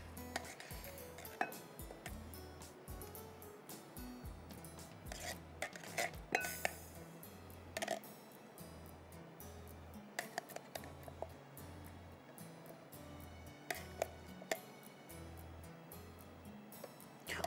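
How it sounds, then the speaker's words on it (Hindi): Italia canned fruit cocktail is poured into a serving dish, with soft, repeated clinks and scrapes of a utensil against the dish over a steady low background hum, and no talking. "अब इसके ऊपर मैं डालूंगी इटालिया का फ्रूट कॉकटेल"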